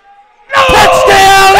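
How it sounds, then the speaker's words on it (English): A football crowd erupts into cheering and yelling after a quiet instant, a loud roar of many voices rising at once and holding strong to the end. "The crowd goes crazy."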